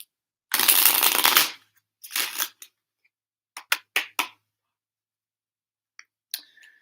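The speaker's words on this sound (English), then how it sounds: "We'll just do one more shuffle." Tarot cards shuffled close by: a long riffling burst, a shorter second riffle, then several sharp snaps and taps as the deck is squared and set down.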